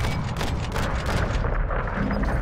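Call of Duty gunfire booms in dense, overlapping bursts of loud shots with rumbling blasts, crowding the whole short moment without pause.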